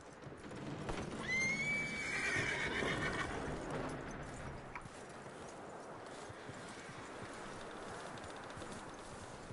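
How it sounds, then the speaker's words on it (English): A horse in Red Dead Redemption 2 gives one loud, close whinny that rises and shakes, then falls away. Soft hoof clip-clops follow over a quiet outdoor ambience. "That looks like a decent horse."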